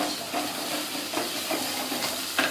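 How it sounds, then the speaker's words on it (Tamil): Garlic sautéing in a pan for a fish curry gives a soft, continuous sizzle with faint stirring scrapes, close but fairly quiet. "பூண்டு போட்டு வதக்கி"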